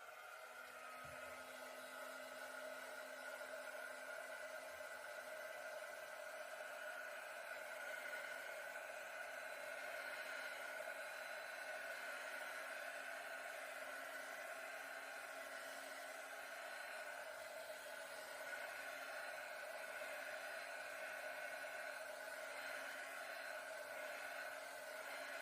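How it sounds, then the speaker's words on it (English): A heat gun blows a steady, even whirring stream of air over acrylic paint containing silicone, continuous and unbroken for the whole stretch with no talking. "Now I'm going to hit this with a heat gun because there's silicone in the one paint."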